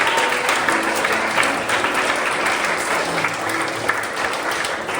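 A congregation at a church youth retreat gives a loud, sustained round of applause offered to God, the dense clapping filling the room evenly from start to finish.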